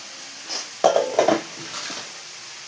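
Small sambar onions fry in a pan with a soft, steady sizzle, broken by a few clattering stirs of a utensil scraping the pan close by.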